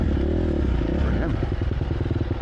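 A four-stroke motorcycle on a club group ride rumbles close by with a deep, loud engine drone that shifts into a pulsing, throbbing beat as it passes.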